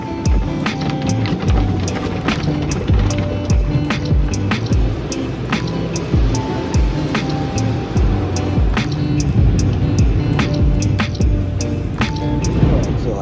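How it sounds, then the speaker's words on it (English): A car passes through an automatic car wash, with water spray, dripping and splashing over a rumbling background and scattered sharp knocks and thumps of the machinery, steady and close throughout. "So I went through the car wash"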